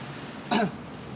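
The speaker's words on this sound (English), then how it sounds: "Excuse me, keep coughing there." A single short cough or throat-clear, close and fairly loud, over a quiet background.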